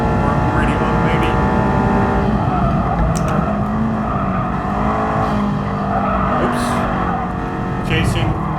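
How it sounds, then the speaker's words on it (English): High-revving car engine accelerating hard in the Gran Turismo Sport racing game, a loud continuous drone with rising and falling pitch that fills the whole stretch, with a brief skid-like hiss near the end. "Accelerating pretty quickly if I look at the speedometer. It's pretty high revving."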